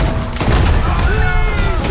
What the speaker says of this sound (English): That was a damn shotgun.